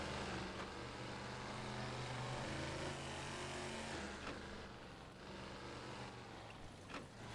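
GWC 1974 GH 200 truck engine in SnowRunner, a loud steady low diesel drone with harmonic hum that holds for about four seconds, then eases slightly with faint clunks near the end.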